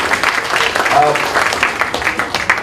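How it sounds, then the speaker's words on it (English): An audience applauds the registrar at a formal academic gathering: a short burst of moderately loud clapping with voices mixed in throughout. "Round of applause for the registrar."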